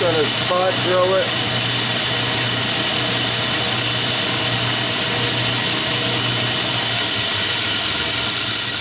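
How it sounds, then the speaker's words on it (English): Metal being spot drilled on a lathe ahead of a 3/8-24 tap, a steady machine hum and whine running throughout at close range, with brief chirping squeals of the cutting edge near the start. "Just going to spot drill it."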